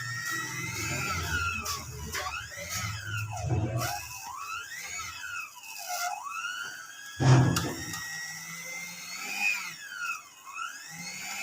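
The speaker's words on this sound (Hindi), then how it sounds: "एक बार दोबारा बीट करना हमें लाजमी होती है ताकि इसमें कोई बर्फ़ नहीं रहे और अच्छे से मिक्स हो जाए।" An electric beater whirs through a stiffening homemade ice cream mixture, its pitch rising and falling repeatedly as the load changes, with a few sharp knocks against the bowl; fairly quiet overall.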